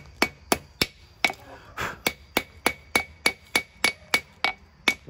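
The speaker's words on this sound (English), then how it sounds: "get my little hammer here" Steady hammer blows on a hot forged knife blade at the anvil, shaping the point of a mountain man knife; about fifteen sharp metallic strikes in an even, quick rhythm, close and loud, with faint background noise between.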